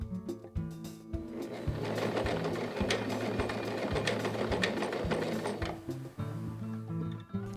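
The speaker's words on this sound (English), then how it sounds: "press the foot pedal and sew several stitches" Kenmore 385.15752 sewing machine stitching over a button, its motor whirring steadily with a rapid, regular mechanical clatter of the needle for several seconds, close and clear with no talk.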